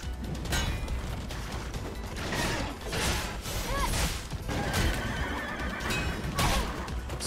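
A horse whinnies and neighs several times over clattering hoofbeats and mechanical rattling, the sounds loud and close.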